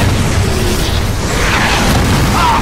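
Bomb explosions in the Call of Duty 3 video game roar as a loud, sustained rumbling blast filling the whole clip, dense and unbroken with no quiet moments.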